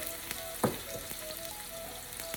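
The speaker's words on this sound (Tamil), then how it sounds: "நெய் சூடான உடனே நான் எப்பயுமே சொல்லியிருக்கேன், கடுகு போடுறதுக்கு முன்னம் வந்து 2-3 வெங்காயம் போடுங்க." Onions frying in hot ghee for coconut rice give a faint, steady sizzle with a few soft pops and one brief stirring clatter, heard alone with no talk.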